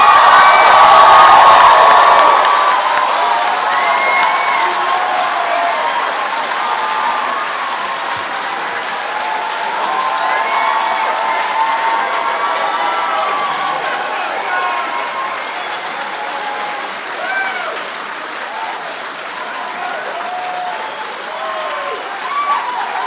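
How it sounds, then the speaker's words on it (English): University graduation ceremony audience delivering a long, loud round of applause with scattered whoops and cheers, strongest at the start and settling into sustained clapping. "could our graduates stand up, give a big round of applause, and perhaps 1 or 2 whoops for all those who've supported you"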